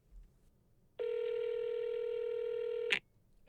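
A single electronic phone ring tone, a steady buzzing tone lasting about two seconds before cutting off, with near silence around it.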